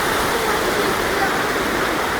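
Steady roar of rushing water from a village waterfall during rain, a dense unbroken wash that stays level and close throughout with no clear voices over it.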